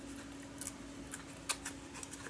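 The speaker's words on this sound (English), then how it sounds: "quite lovely little scissors" Small Tim Holtz scissors are handled, giving a few faint, irregular metallic clicks and snips over a low steady hum, with no talking.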